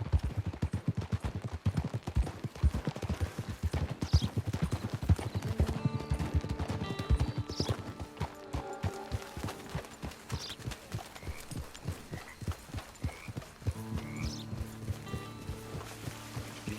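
Rhythmic horse hooves clip-clop steadily at close range through a Red Dead Redemption online session, joined by occasional whinnies, with sustained musical tones entering partway through and distant gunfire-like cracks in the mix.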